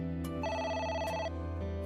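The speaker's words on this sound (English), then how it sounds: "Oh, It's the phone." A telephone rings in the video game AI: The Somnium Files, with a steady electronic ring, a short pause, then a second ring, heard clearly on its own without talk.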